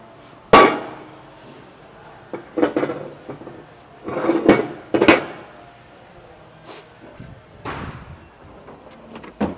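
Packing gets pulled from a large Allweiler NTT centrifugal pump: scattered metallic clanks and scraping knocks come close and irregular, several sharp hits spaced through a quiet workshop.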